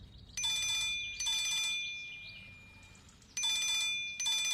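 A telephone rings in repeated electronic double bursts, loud and close, with short pauses between them and no voices over it.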